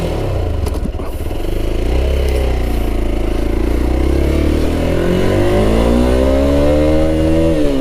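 A Hero Xpulse 200 4V motorcycle accelerates hard through the gears on an open road during a speed test, its engine note rising in pitch continuously and loudly with steady wind rush and no talk.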